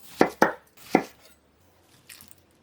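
A knife roughly chops onion and other vegetables into large pieces on a board, giving three sharp close chops in quick succession, then a pause and a softer pair of cuts.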